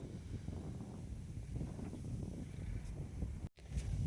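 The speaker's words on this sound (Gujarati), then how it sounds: "મસ્ત લાગે રહે વાયરો છે આજે તો વધારે" Wind buffets the microphone in a steady low rumble with gusty swells, cutting out briefly near the end before returning.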